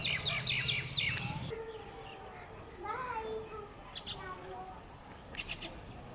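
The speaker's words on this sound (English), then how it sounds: "The Rufus is a bird that feeds on berries and insects." Rufous, an orange arboreal bird of foothill and montane forest, calls in short chirps and whistled notes, fairly near, over a soft background with brief sounds like children's voices.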